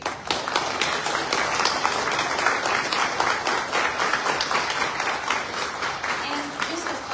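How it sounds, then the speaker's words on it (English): Sustained applause from a council meeting audience honoring Chief Anderson, steady dense clapping filling the room for several seconds, with some voices mixed underneath. "So I want to give a round of applause to Chief Anderson"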